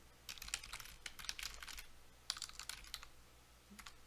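Quick bursts of keystrokes on a computer keyboard, clicking in short clusters with pauses between, close and clear with no voice.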